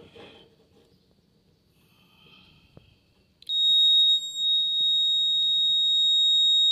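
A continuity tester's steady, high-pitched electronic beep comes on abruptly and holds continuously on a new working relay from a refrigerator, loud and close, after a few seconds of faint handling noise.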